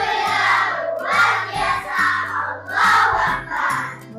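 A crowd of schoolchildren shouting an enthusiastic greeting in unison in a classroom, several loud rising chants in a row with a steady musical drone underneath.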